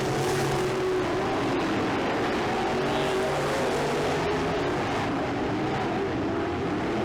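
Dirt-track race cars roaring around the oval as a race nears its final laps, a dense, loud wash of engines passing continuously with no breaks.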